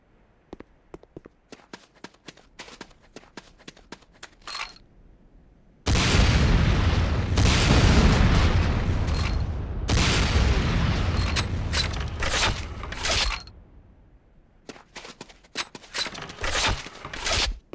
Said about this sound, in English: Next up is the Sakoze 66mm Type R12 Locust automatic rocket launcher.